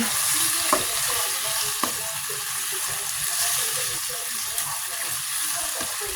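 Wild boar with chili curry paste sizzles and fries steadily in a pan, stirred with a few sharp utensil scrapes and clinks against the pan, loud and close throughout.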